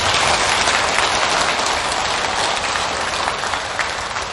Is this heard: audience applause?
yes